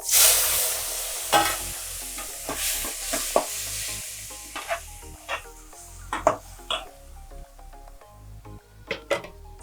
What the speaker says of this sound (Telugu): టమాటా వేపించాలి కదా